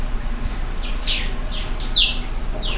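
Canaries kept in a cage, giving a few thin, high chirps that stand out faintly over a steady background hiss, with no speech.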